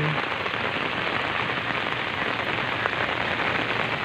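Steady rain falling onto a surface, a dense continuous patter of drops with no voices, even and unbroken throughout.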